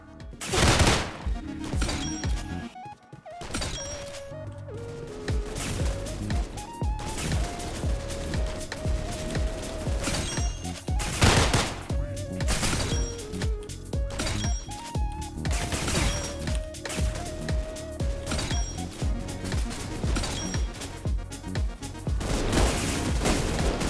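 Rapid gunfire in a video game during a recoil test, sharp repeated shots in quick bursts with brief pauses, steady and close, over game background sounds.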